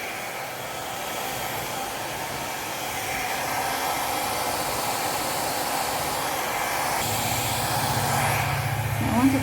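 Fluid art paint is blown out with a steady rushing hiss of air, close and continuous for several seconds, rising slightly partway through and shifting tone near the end.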